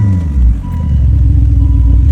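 A 2005 Volvo S60 R sedan's turbocharged engine revs up close and loud, a deep rumbling drone that builds over a couple of seconds.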